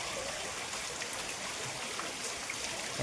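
Heavy rain pours down in Chalala town, a dense continuous hiss of falling water and splashing with no voices, steady throughout.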